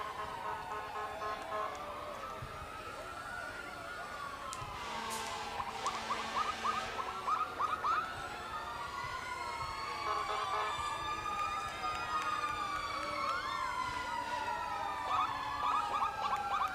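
Wailing fire engine and police sirens rise and fall over outdoor crowd noise at a Fourth of July parade in Bridgewater, sustained and fairly loud, with several tones overlapping as the vehicles pass.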